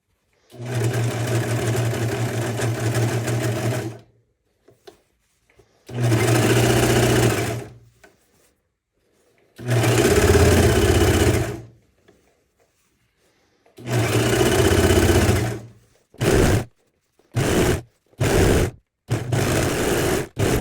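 Sewing machine stitching a pajama trouser hem with piping through four layers of fabric, several loud sustained whirring runs separated by silences, ending with a few short quick bursts.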